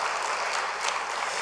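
A church congregation in Korea claps steadily and fairly loudly throughout a Sunday service, a dense, continuous patter of applause with no voices standing out.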